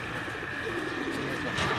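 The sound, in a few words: pigeon cooing on a rooftop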